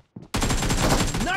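Dense automatic gunfire from a PUBG Mobile team deathmatch erupts after a short pause and rattles on loud and continuous, with the shots crowding together.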